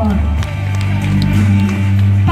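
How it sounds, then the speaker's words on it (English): A crowd claps and cheers for Pasig City Mayor Vico Sotto at the Ortigas East light-up event. The applause is steady and fairly loud throughout, with a low hum underneath and some voices mixed in. "another round of applause, please, for Honorable Mayor of Pasig City, Mayor Vico Sotto"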